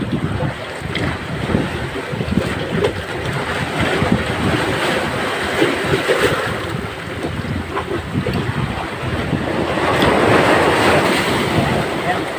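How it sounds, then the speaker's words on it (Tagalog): Loud, rough rush of strong sea waves with heavy wind buffeting the microphone, a continuous churning roar throughout. "malalakas ang alon."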